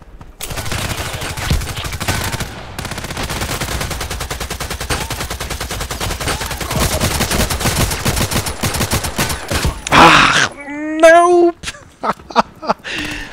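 Gunfire in the video game Contract Wars rattles in rapid bursts of automatic shots, loud and close, before a pause, then a few scattered sounds and a voice speaking near the end.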